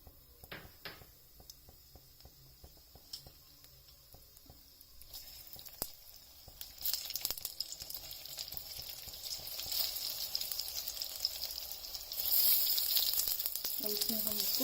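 Mustard seeds dropped into hot oil, starting with quiet scattered crackles and then swelling into a loud, steady, hissing sizzle with bursts of popping near the end, heard close up with no talk.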